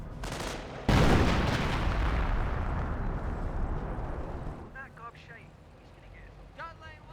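Artillery shells hitting in the Company of Heroes battle game: a sharp, heavy blast followed by a long rumbling decay, with faint scattered battlefield noise and brief clipped radio-style chatter near the end.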